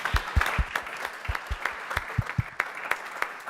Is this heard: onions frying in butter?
no